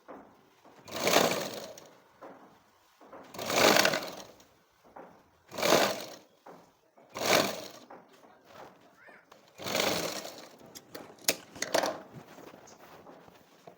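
Sewing machine stitching along a blouse neckline in bursts, five or six separate runs of a few seconds each with short pauses between them, fairly close and moderately loud, no talking.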